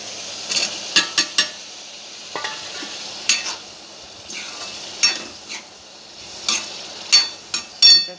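Chickpeas tipped into a pan of masala and stirred, with a series of sharp scraping and clattering strokes of a spoon against the pan over a low background hiss.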